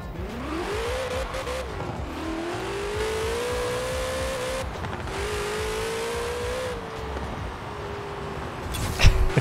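Barrett-Jackson King Cobra engine in Forza Horizon 4, a loud close-up exhaust note climbing through gears in rising sweeps, dipping at each shift, then settling into a steady high drone before a brief burst at the end.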